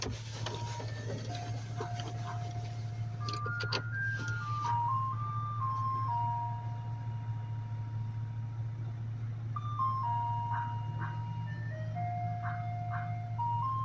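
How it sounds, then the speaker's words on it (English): An ice cream truck's jingle plays a simple tinkling melody in repeated phrases over a steady low engine hum, heard from moderately close. "That's the ice cream truck. They're playing a sound."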